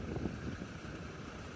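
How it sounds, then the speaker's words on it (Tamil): Wind gusts outdoors beside a cement-hauling truck on a road trip toward Poonamallee, heard as a steady, loud low rumble buffeting the microphone for the whole stretch, with no voices. "நல்லா காற்று அடிக்குது."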